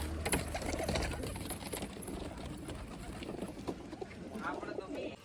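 A pigeon coos softly from its nest with eggs and a chick, a faint, low burbling under a steady background murmur and a voice speaking nearby.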